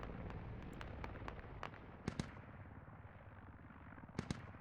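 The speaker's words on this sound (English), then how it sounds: "You got heavy machine guns and AAs opening up." Heavy machine gun and anti-aircraft fire in a military video game, heard as repeated sharp bursts and thumps over a dense, steady rumble of battle noise at moderate distance.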